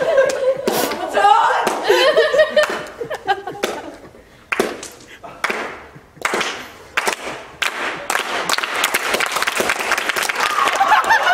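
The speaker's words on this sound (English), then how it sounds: "Slow clap." An audience breaks into clapping mixed with laughter and chuckles, the claps coming as sharp separate strikes that thin out and then build into denser applause toward the end.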